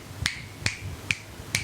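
Four crisp finger snaps in a steady, evenly spaced rhythm, close and clear against a quiet background.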